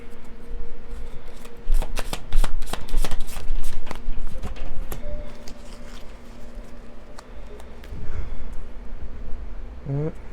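Angel oracle cards being shuffled in quick bursts of crisp riffling and rubbing, loud and close, with brief pauses between rounds and no talking.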